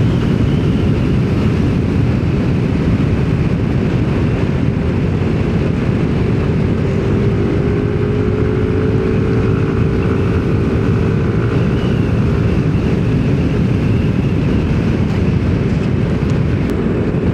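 Yamaha NMAX Techmax 155 scooter fitted with an iridium spark plug, riding with a continuous loud engine drone and road noise, a faint rising tone sweeping through the middle.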